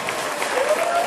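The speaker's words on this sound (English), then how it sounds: "Y'all, let me see y'all use the applause." Brief burst of audience applause greeting a principal entering at a holiday reindeer production dress rehearsal; dense crowd clapping at a steady, fairly loud level, with a faint voice running through it.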